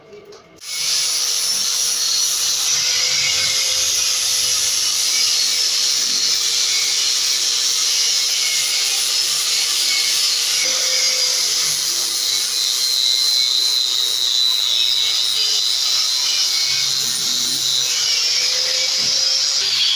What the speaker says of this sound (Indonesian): proses penghalusan menggunakan amplas yang lebih halus